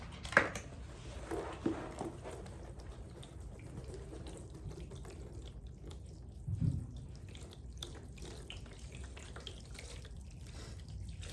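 Warm water pours from a container onto a coco coir brick for growing microgreens, a quiet continuous trickle indoors with a couple of brief knocks and splashes.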